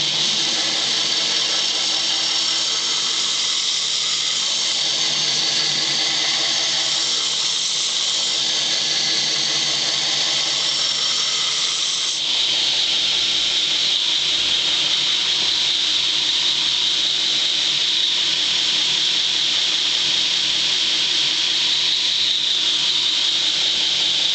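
A knife blade gets a flat grind from edge to spine on a grinder: a loud, continuous abrasive hiss and whine that holds steady throughout, shifting slightly in pitch partway as pressure or speed changes.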